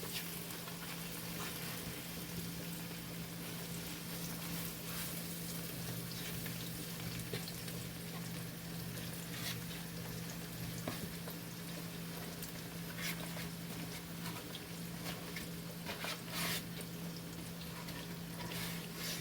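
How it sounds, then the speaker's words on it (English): Steady, crackling sizzle of potatoes, onions and smoked sausage frying in a hot pan, continuous and close, with a low hum underneath and no talking. "Yeah, it's still got a little sizzle to it"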